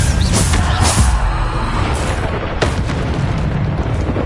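Bombarda spell explosions in Hogwarts Legacy, loud booming blasts in quick succession over a continuous rumble of in-game combat.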